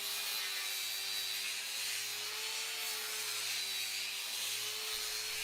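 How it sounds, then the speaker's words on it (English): A power sander fitted with nylon brushes and P60 to P80 abrasive discs works over timber for a prefab wooden house, giving a steady, continuous abrasive hiss with a faint motor whine and no voices. "The nylon brushes and abrasive discs remove the darkened layers efficiently, revealing the wood's natural tones."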